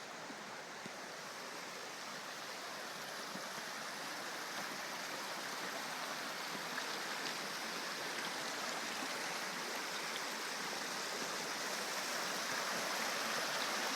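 A small stream flows steadily, a constant rushing babble of water with no voices, holding an even level throughout.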